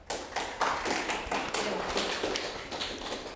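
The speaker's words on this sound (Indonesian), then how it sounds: "tepuk tangan untuk kelompok 4" Classmates in a school classroom clap for a presenting group, a brisk, fairly loud round of hand claps lasting a few seconds with no voices over it.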